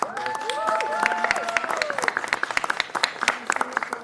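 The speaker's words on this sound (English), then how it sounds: "Yeah, round of applause." Applause from a small group, a patter of claps with overlapping voices talking and calling out over it, fairly close.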